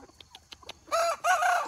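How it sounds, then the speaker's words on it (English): Excited farmyard chickens cluck and squawk nearby: a few soft, separate clucks, then two loud, dense bursts of raucous cackling with no talking. "You nutty chickens."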